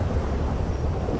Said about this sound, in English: this is really rainy